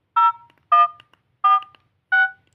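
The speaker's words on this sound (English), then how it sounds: "How do I type in phone number?" Four evenly spaced touch-tone beeps from a phone keypad as a number is dialed, each a short clean tone with brief silent gaps between, loud and close.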